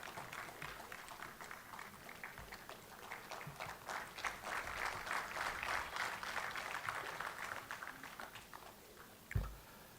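An audience claps steadily, the applause swelling in the middle and then fading, with a single sharp knock near the end.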